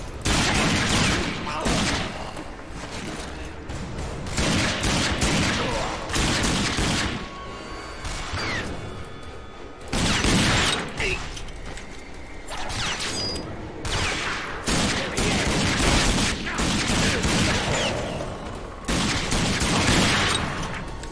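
Sustained volleys of gunfire from the post-apocalyptic shooter RAGE, loud and dense, coming in repeated bursts with brief lulls over about twenty seconds, with a voice faintly under the shots.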